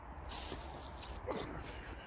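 Short, quiet hissing bursts of aerosol penetrating oil sprayed onto the brake parts of a 2004-2008 Ford F150, several in a row, close by against a low background rumble.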